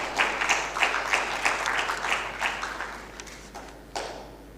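Energetic applause from an audience at an aerospace and defence conference plenary, a dense round of clapping with rhythmic surges that gradually thins and fades, with one last burst near the end.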